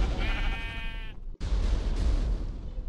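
A sheep bleats in the Hypixel video game: one wavering bleat, then a short gap and a sharp click, followed by a breathy, noisy burst of game sound.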